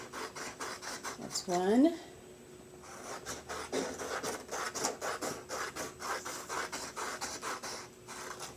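Scissors snip through paper strips in a quick, steady run of close, soft cuts. A voice speaks briefly near the start.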